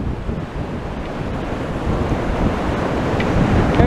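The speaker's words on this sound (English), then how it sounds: "These waves, they're not gigantic and dramatic, but they're definitely super, super strong and rough." Strong, rough sea waves churn at high tide on the Blackpool seafront, a dense, continuous roar of surf with heavy wind buffeting the microphone, building slightly louder toward the end.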